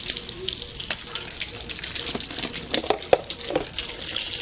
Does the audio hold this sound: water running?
yes